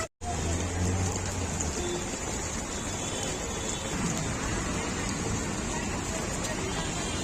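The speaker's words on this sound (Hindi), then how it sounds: "बारिश होने लगी है" Steady, loud rain pours down over a Mumbai local market, a dense continuous hiss that runs unbroken throughout, with a brief dropout at the very start.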